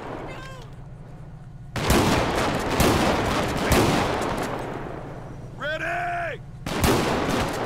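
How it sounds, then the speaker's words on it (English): In the GTA V police mod LSPDFR, a pump shotgun fires in loud, heavy blasts with lingering rumble. A voice speaks briefly and a siren wails between the shots. "Oh, boy, does this shotgun sound good."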